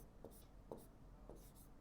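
A formula is written on a board during a maths class, soft scratchy strokes recurring in short bursts about every half second, faint and close, with no talk.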